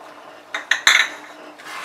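Cardamom powder being stirred into a chushi pitha mixture in a pan, with a few close metal spoon clinks and scrapes against the pan over a soft background hiss.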